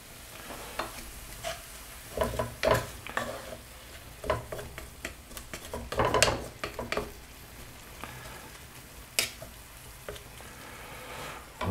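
Onions and tomato are stirred in a frying pan, giving a soft continuous sizzle broken by irregular scraping and clinking strokes of a utensil against the pan, close and moderately quiet, with no talking.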